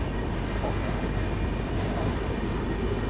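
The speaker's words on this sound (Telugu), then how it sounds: "సో హాఫ్ అన్ అవర్ తర్వాత మనకి ట్రైన్ అయితే స్టార్ట్ అయింది హిందూపూర్ నుంచి" The Kondaveedu Express passenger train running after leaving Hindupur, a steady rumbling roar heard from inside the carriage, continuous and even in level with no distinct clacks.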